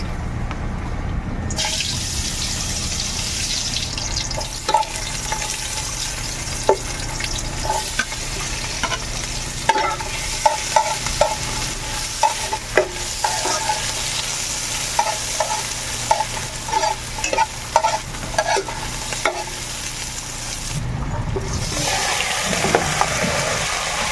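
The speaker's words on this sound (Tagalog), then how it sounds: "idaan ko muna sa gisa yung mga spices para lumabas yung magandang amoy" Spices for pork humba with jackfruit being sautéed in a pan: a continuous sizzle with repeated clinks and scrapes of a spatula against the pan, close and steady for a long stretch, with no one talking.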